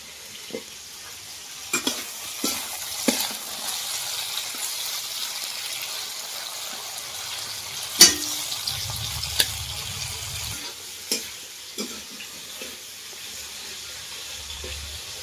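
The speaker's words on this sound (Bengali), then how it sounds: "একটু লাল লাল করে ভেজে নিতে হবে" Soft steady sizzling of okra frying in a pan, punctuated by occasional sharp clinks and scrapes of a spatula stirring.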